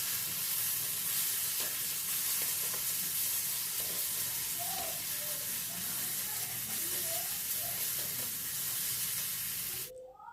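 Beetroot with salt and turmeric fries in a pan with a steady, dense sizzle and hiss that runs unbroken at close range, with faint scraping stirs partway through, before cutting off abruptly near the end.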